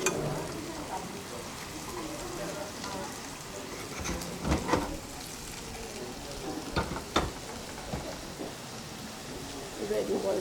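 Cubed arbi (taro root) coated in masala sizzles in a frying pan in a home kitchen, a steady hiss with occasional spatula scrapes and clatters, heard close up.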